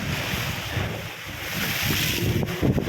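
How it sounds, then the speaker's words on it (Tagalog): Strong wind roars and buffets the microphone continuously, with big waves washing in close by underneath. "Lakas ng hangin"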